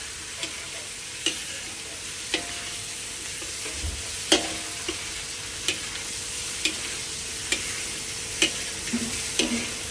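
Pork belly fries with garlic in a pan, a steady low sizzle broken by sharp clicks and scrapes of stirring at irregular intervals, close and moderately quiet with no talking.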